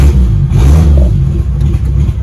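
A 1966 Triumph GT6 engine revs loudly up close, a rough mid-pitched roar that rises and holds as the car pulls off, alone without talk.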